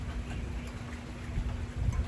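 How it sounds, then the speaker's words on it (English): Rain falls steadily outdoors as a soft, constant patter with a low hum underneath, no voices heard. "here comes the rain"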